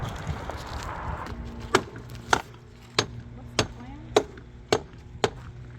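After a noisy start, a hammer strikes seven sharp, evenly spaced blows knocking off engine parts, ringing out clearly in a quiet space.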